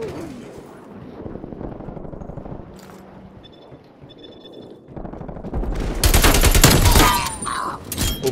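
Video game gunfire from a competitive round-based shooter, with a dense, loud burst of rapid shots near the end after quieter game ambience and faint earlier shots.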